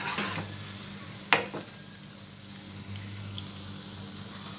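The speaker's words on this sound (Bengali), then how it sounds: "আস্তে আস্তে এগুলো ভেজে নেব" Spicy nimki frying in moderately heated oil over a medium gas flame, giving a steady soft sizzle broken by one sharp metallic clink of a utensil against the pan early on.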